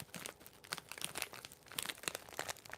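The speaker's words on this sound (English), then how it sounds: "a Cheez-It bag. Do you guys like crinkle sounds?" A Cheez-It snack bag is crinkled up close in a quiet setting, making continuous bursts of crisp plastic crackling and rustling with no talking.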